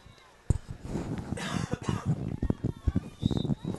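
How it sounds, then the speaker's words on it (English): Several sharp, close coughs from a girls' soccer match commentator with a sinus and throat illness break out in a rough, uneven series, the first one loudest. "I apologize for the occasional cough."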